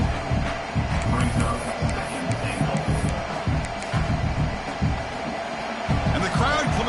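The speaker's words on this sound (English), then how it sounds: "And the crowd coming to life here" College football stadium crowd during a defensive stand in the red zone, a broad, steady roar of many voices swelling under a play-by-play commentator's voice.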